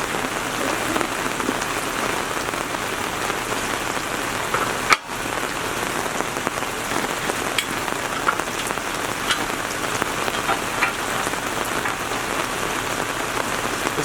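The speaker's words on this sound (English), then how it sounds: "I'm not letting the rain end my day." Steady rain patters on a surface, a dense, constant hiss of drops that continues throughout, with one brief bump partway through.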